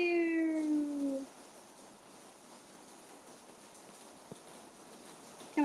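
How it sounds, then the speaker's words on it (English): A single drawn-out cat meow sounds at the start, then fades to a near-silent background with a faint click near the end. "Meow."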